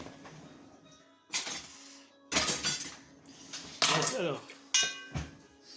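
Knife sawing through a Chinese brioche on a board, several loud, scraping cutting strokes in bursts separated by short pauses, with quiet talk underneath.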